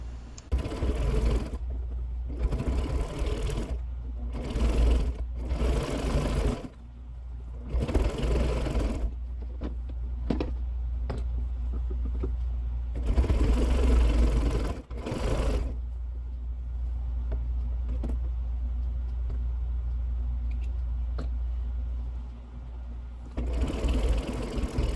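Sewing machine stitching around a quilted strip bag, close bursts of rapid mechanical stitching that start and stop repeatedly, with short pauses between runs and a low steady hum beneath.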